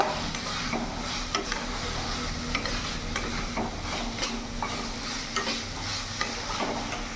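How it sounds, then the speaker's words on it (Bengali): Peas get stirred into a cooked, sizzling spice masala in a pan for cauliflower kalia, with a continuous fry hiss and a steady run of soft scraping strokes close by. "এবার এখানে আমি হাফ বাটি মতো মটরশুঁটি নিয়েছি, ভালো করে মিশিয়ে নেব"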